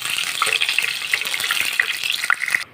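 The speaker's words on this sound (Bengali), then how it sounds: "এবার এই তেলের মধ্যে আমি আলু দেবো, তো এই রান্নায় আলু দেবো, সেই আলুগুলোকে ভালো করে ভেজে নেব" Potatoes frying in hot oil in a pan for a vegetarian Bengali recipe, a dense steady sizzle with scattered crackles and pops, close and fairly loud, stopping abruptly at the end.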